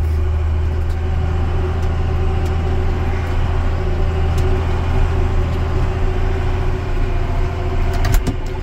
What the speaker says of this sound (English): yeah, there's the truck.